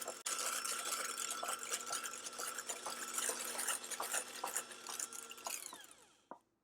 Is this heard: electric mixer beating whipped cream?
yes